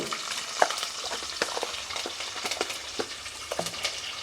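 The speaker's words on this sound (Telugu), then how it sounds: "అలాగే కొంచెం జీలకర్ర వేసుకుంటున్నాను దాంతోపాటు కొన్ని ఆవాలు వేస్తున్నాను" Cumin and mustard seeds sizzle in hot oil for an egg curry, a constant hiss dotted with sharp crackling pops spread across the short stretch.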